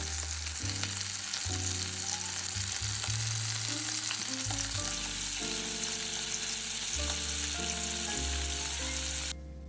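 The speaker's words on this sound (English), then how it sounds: "Sear them about 1 to 2 minutes per side until they are beautifully browned." Beef steaks searing in olive oil in a hot pan give a steady, loud sizzle and spatter throughout, with some clinks and shifting tones of cookware underneath and no voices.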